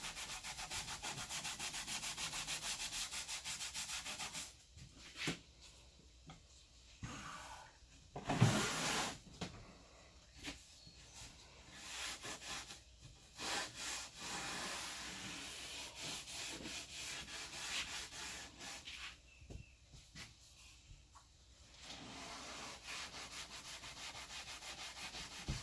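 Wood furniture is sanded with paint stripper, giving quiet, gritty rubbing strokes in uneven bursts, some longer scrubbing passes broken by short pauses and a few sharper knocks.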